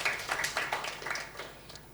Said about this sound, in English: On va donc applaudir le groupe qui a travaillé en ligne